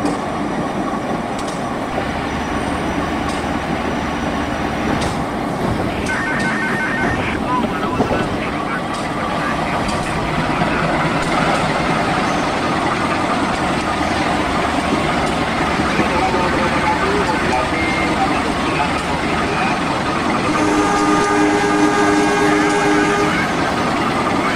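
A Jayakarta train pulls into Krukut station at night, heard from the vestibule between cars: a loud, steady rumble and rattle of wheels and carriages, with squeals and tonal brake whines toward the end and people talking over it.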